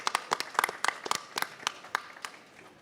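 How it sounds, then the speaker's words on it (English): A festival audience at a book launch gives a big round of applause as a tribute, a burst of scattered, distinct hand claps that thins out toward the end, with no talk over it. "A big round of applause."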